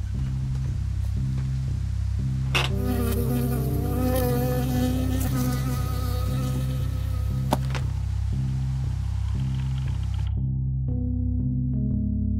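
A buzzing insect, a bee in the video game Firewatch, drones steadily over a layered electronic hum, swelling into a fuller, rising buzz midway before cutting back to the steady hum.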